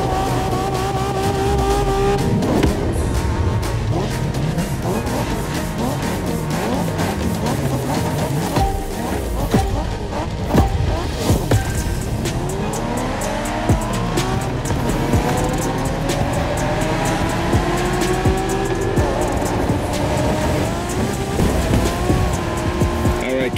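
A 1992 Honda NSX race car howls through a Japanese street race in The Crew Motorfest, its engine note climbing and dropping through gear shifts, with repeated tire squeals and other cars whooshing past.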